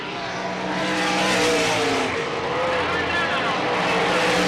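Sprint race cars roar around the Selinsgrove Speedway track in 1988, a dense, continuous engine drone from several cars with pitch rising and falling as they pass, heard at a distance under steady crowd-level noise.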